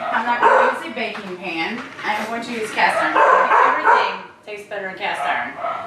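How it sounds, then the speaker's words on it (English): Pet dogs bark and yip in a home kitchen during cooking, the sharp barks and whimpers mixed in and partly masked by a person talking continuously. "Sorry about my dogs."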